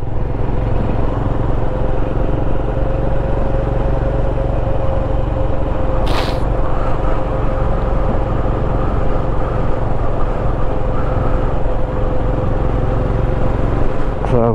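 A Royal Enfield Scram 411 motorcycle rides along Warwickshire country back lanes, its engine a steady low drone under heavy wind rush, with a brief sharp noise midway.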